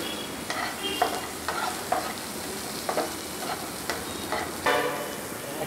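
Red-wine-soaked small shallots sizzle steadily in a pan, broken by repeated scraping strokes of a spatula at an uneven pace, close up with no talk.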